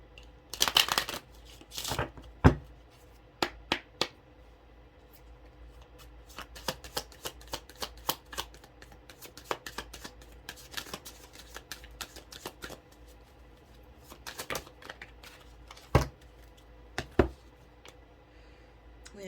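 Tarot cards are shuffled close up, with scattered bursts of riffling and soft flicks and taps spread over quiet pauses before the final card is drawn.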